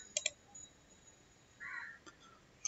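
A computer mouse clicks a few times, a quick close double click followed later by a single faint click, amid quiet room tone and a brief soft electronic tone.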